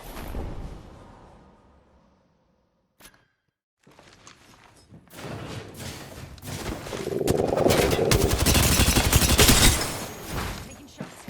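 Rapid bursts of video game gunfire in a competitive shooter, starting sparse then building into a loud, dense fusillade of automatic shots with thuds and footsteps, no talk over it.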